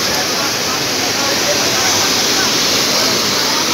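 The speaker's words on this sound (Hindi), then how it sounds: "ये पानी का शोर है वाकई" Rushing water at Lahooti Picnic Point in Karachi, a loud, continuous roar like a waterfall or fast stream that fills the whole moment without any break.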